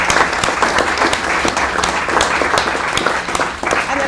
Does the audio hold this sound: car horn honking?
no